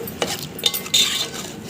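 A ladle stirs eggplant and mango curry in a pot after water is added, giving a few soft scrapes and light metallic clinks in short bursts, close by and with no talking.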